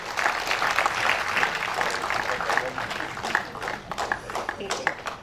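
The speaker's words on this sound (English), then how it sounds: "Yes, let's give a huge round of applause." A large convention audience applauds steadily and loudly, a dense wash of clapping that carries on throughout with voices over it and tapers slightly near the end.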